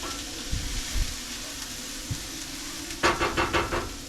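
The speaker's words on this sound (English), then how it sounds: "I'm going to get the carrots in now. As I said, we're just going to sweat these" Carrots sweating in a pan over lowered heat give a steady low sizzle and hiss, with a few soft knocks of stirring and a louder burst of crackling near the end.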